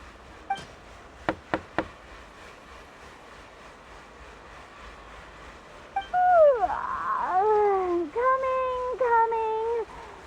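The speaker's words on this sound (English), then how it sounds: "I'll go knock on the door." Three sharp knocks on a door in the video game Genshin Impact come close together near the start, followed after a pause by a character's sung, whistle-like answering voice.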